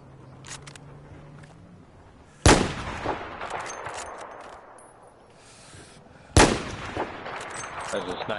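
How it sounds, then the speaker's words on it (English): Two loud sniper rifle shots in the video game Battlefield 4, sharp cracks about four seconds apart, each with a ringing tail, over steady game ambience. "There's a sniper shooting at me now."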